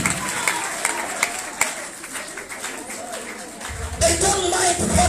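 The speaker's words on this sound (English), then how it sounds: "Can you give a round of applause for our friends of the future?" Audience applause at a talk swells beneath a speaking voice, scattered claps and crowd noise growing denser and louder toward the end.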